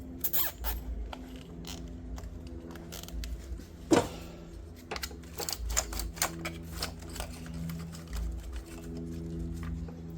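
A plastic zip tie ratcheting tight during a valve cover gasket replacement on an Infiniti FX35/G35 engine, heard as a series of sharp, uneven clicks over a steady low hum, close by and moderately loud.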